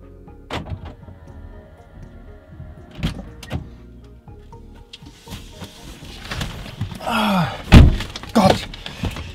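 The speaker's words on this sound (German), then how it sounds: "Ich würde sagen, wir steigen jetzt mal ins Auto und dann sehen wir weiter." Someone gets into a car parked tightly among others, with sharp thunks of handling and the door, a brief electric window whir, then louder rustling and a heavy door slam near the end, all close by.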